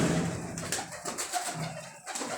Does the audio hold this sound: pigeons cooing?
yes